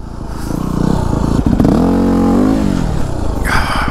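A Yamaha WR250R dirt bike engine revs hard and rises in pitch as the rider lifts into a wheelie, loud and close, then drops off with some clatter.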